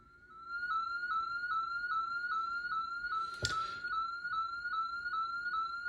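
A steady sweeping test tone run through a linear-taper potentiometer rises repeatedly in even, identical sweeps like a siren, with a brief burst of noise midway, fairly quiet and alone.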